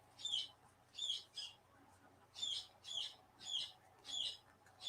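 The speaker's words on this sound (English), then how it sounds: "I have birds. Can you tell?" Pet birds indoors give repeated bright chirping bursts, about seven in quick clusters, close and clear over a quiet room hum with no talking.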